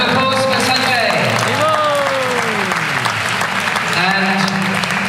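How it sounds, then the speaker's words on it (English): A lecture audience applauds during a talk on Krishna, Rama and Vishnu; loud, continuous clapping sits under strong sliding tonal sounds, likely a voice or instrument, throughout. "Round of applause for Sanjay."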